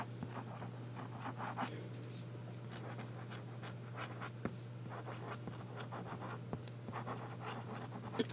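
Close, steady scratching of a wet, juicy fountain pen nib gliding across paper, with continuous fine strokes and small taps over a constant low hum.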